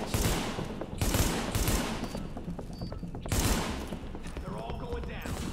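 Shotgun blasts from Tom Clancy's The Division, a video game, boom out in several loud, spaced bursts over a steady backdrop of game noise, with a voice talking through parts of the clip.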